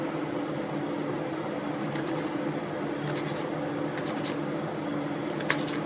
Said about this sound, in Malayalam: 2 പച്ചമുളക് കട്ട് ചെയ്യും.